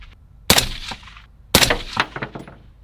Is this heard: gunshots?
yes